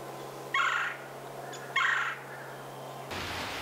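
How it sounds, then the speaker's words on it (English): Two short bursts of harsh, rasping bill-snapping clicks from a great horned owl, about a second apart, over a steady low hum and faint background noise. "That bill snapping is a warning sound when they feel anxious or threatened."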